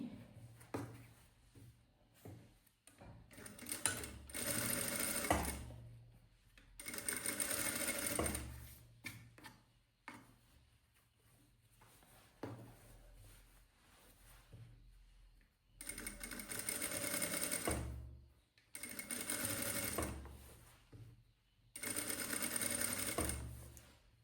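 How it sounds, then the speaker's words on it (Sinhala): A sewing machine stitches a darted blouse, running in several sustained bursts separated by short pauses and quieter handling, close and fairly loud with no talk. "මැෂින් එකේ දෙපැත්තටම මහන්න හුරු වෙන්න ඕනේ ඔයගොල්ලෝ"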